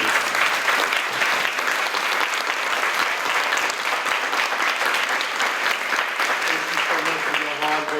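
An audience at an honorees event gives the board of directors a round of applause, a loud, thick wash of many hands clapping continuously, with scattered voices mixed in.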